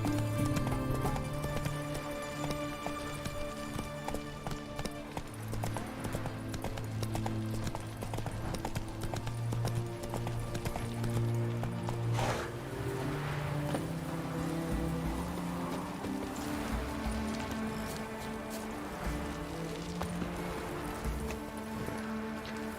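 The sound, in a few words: Roach the horse galloping in video game The Witcher 3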